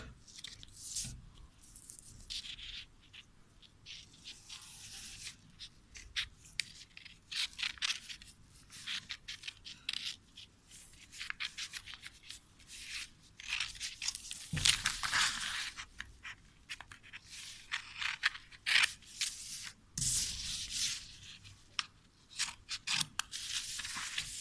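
Scissors snip repeatedly through paper, cutting out small squares to make a bookmark, a steady run of close, crisp cuts with occasional louder snips and no talking.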